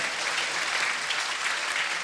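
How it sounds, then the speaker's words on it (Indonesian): Steady, dense applause from a group of people, even and continuous without pause. "tepuk tangan"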